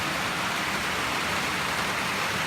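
Steady rain pours down during a heavy downpour on a cloudy day, a dense, even hiss of falling water that continues unbroken and moderately loud throughout, with no voices.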